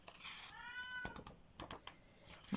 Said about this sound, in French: J'ai ma minette qui miaule.